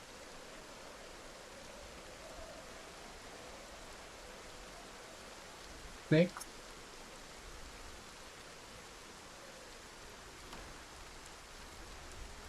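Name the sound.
rain in Project Zomboid video game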